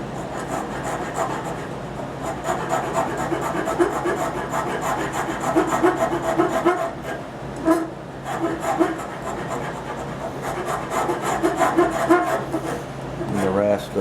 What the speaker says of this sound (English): Nicholson rasp that I'm using here to get it shaped